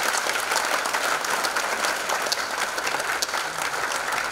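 Dense, steady applause from a large audience at a Hindi comedy poetry gathering (kavi sammelan), many hands clapping together at a constant loudness with no voices on top.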